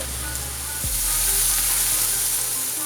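Gardein meatless strips frying in a pan, a dense, steady sizzle that holds close and even throughout with one faint clack near the start.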